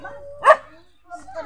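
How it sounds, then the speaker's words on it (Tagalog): A single sharp, angry dog bark rings out near and loud, with quieter vocal sounds before and after. "Nagagalit na po yung aso"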